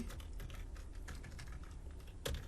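Rapid typing on a computer keyboard while writing code for a Raspberry Pi LED project, a steady close run of light key clicks ending in a heavier keystroke.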